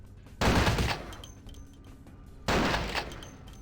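Two heavy SPAS shotgun blasts in the game Vampire the Masquerade: Bloodlines, each a loud broadband boom with a decaying tail, about two seconds apart.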